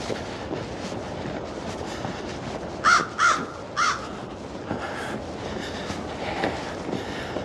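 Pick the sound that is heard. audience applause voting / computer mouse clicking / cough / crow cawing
crow cawing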